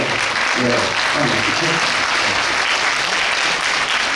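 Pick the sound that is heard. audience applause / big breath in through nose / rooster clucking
audience applause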